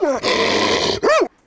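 Wolfhound guard dog growls in two close, rough bursts, the first long and snarling, the second shorter and rising, then stops abruptly.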